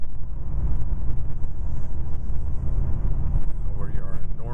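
A 2023 Toyota Camry accelerates in Sport mode with a steady, low engine and road rumble from inside the cabin, heard under someone talking.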